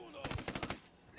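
Quick burst of suppressed sniper rifle shots in the Ghost Recon Wildlands video game, several rapid close reports packed into under a second, then quiet.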